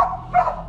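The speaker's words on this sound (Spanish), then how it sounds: "Hay un perro que está ladri ladri, pero es porque no alcanza el agua" A dog barking with short yips and whimpers, apparently tied up and unable to reach its water, heard nearby in two brief bursts.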